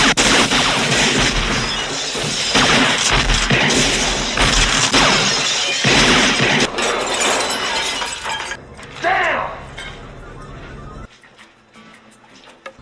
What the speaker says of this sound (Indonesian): sekelompok tentara bayaran langsung memberondongkan tembakan ke arah kabin mereka